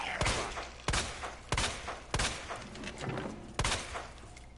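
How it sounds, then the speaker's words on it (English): Gunfire from a handgun shooting zombies in Resident Evil 2 Remake: six sharp, loud shots spaced roughly every half second to second, each with a short decaying tail, with no talk over them. "Shoot some zombies."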